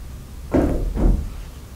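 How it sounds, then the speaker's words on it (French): Two dull wooden thuds in quick succession, like a door being opened or closed somewhere inside a dark building at night, fairly close and alone against a quiet background hum. "Est-ce que c'est vous qui venez d'ouvrir ou de fermer la porte?"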